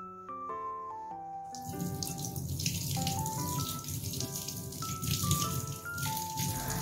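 Running water rinses off a body scrub, a steady close splash and trickle from a tap with bright tonal notes drifting over it, constant and moderately soft, no talk.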